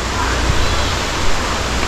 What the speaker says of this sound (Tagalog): As usual, naririnig na natin yung falls.